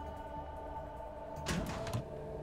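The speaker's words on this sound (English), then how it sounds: "I think the door just opened" A door opens in the video game Halfway, a brief sliding, hissing burst over a steady low mechanical hum, fairly quiet and with no voices.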